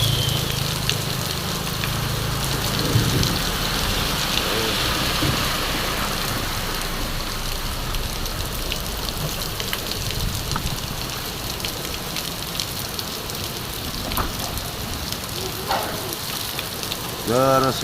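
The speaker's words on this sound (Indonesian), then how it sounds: "Wah, hujannya deras banget." Heavy rain pours steadily outdoors during flooding, a dense, constant wash of noise at close range that runs unbroken for the whole stretch, with a few brief sharper sounds near the end.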